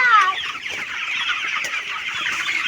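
A hen clucks in a steady run of close, overlapping calls, with a brief higher squawk near the start, against a busy outdoor background.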